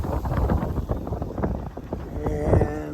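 Gusty wind buffets the microphone aboard a sailboat at sea as squalls pass, a close, rough, uneven roar of low rumbles and bursts, with no one speaking.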